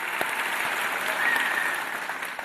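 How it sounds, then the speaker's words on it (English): An audience breaks into applause during a speech. It is a brief, even wash of many hands clapping at moderate loudness, with no voices over it. "in the middle of talking about a grieving widow, I always like to get an applause break"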